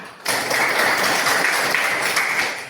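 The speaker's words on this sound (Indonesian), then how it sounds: "Kita tepuk tangan untuk Vena dan Marta" Classroom applause as a group of students claps for two classmates, a dense steady patter that starts abruptly and holds at full strength without any talk.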